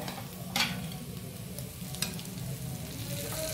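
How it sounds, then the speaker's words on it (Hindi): Ground turmeric, chili, coriander and garam masala fry lightly in a pan for a stuffed tomato curry, giving a steady close-up sizzle with sharp scrapes and taps from a spoon stirring at intervals. "इसको ज्यादा फ्राई नहीं करना है, हल्का सा फ्राई करना"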